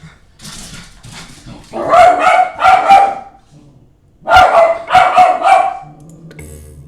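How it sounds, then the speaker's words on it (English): A dog barks loudly nearby in two clustered bursts of several sharp barks each, with whimpers and yips before and a quiet indoor room between, no speech. "Forgive the dog."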